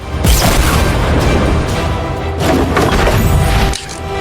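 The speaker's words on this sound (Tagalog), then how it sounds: "Gamit ang bazooka!" A bazooka fires and explodes in Fortnite: a loud booming blast that rolls into sustained crashing rumble, with a second heavy impact surge midway, no talk.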